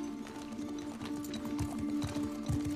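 Horse hooves clip-clop at a steady trotting rhythm in the video game The Last of Us Part II, moderately close, over a sustained ambient background tone.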